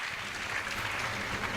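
A crowd at a Christmas farewell celebration applauds with dense, steady clapping that fills the room evenly at moderate volume.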